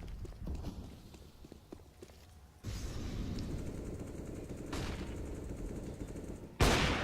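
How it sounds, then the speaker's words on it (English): Gunfire in a competitive Counter-Strike match on the Train map: quick bursts of shots crackle early on, followed by a steady din and a sharp, loud burst right at the end. "It's a fast shot from Major."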